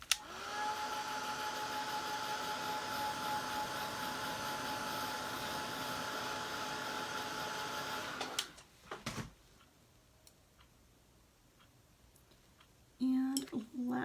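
A hair dryer blows steadily on wet paint for about eight seconds with a constant whining hum, then cuts off, leaving faint clicks and rustles before a short burst of handling noise.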